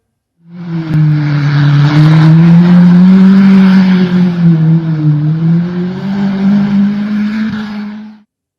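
A locally made Afghan sports car drives past close by, its loud engine droning steadily with shifting pitch, swelling in and fading away over several seconds with no voices.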